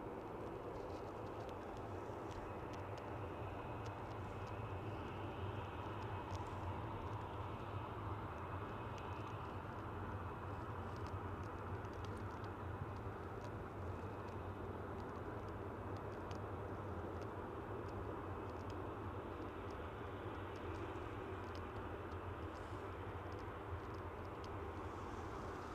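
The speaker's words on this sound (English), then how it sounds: "So there's another plane up there, but I can't seem to grab that one." A plane flies over Manchester Airport at sunset, heard as a steady, distant broadband engine roar that holds at an even level for the whole stretch, with no talking.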